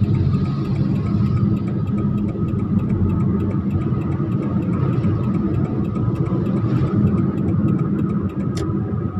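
A car engine drones steadily as it climbs a gentle slope in third gear at about 40 km/h, a constant mid-low hum with no talking.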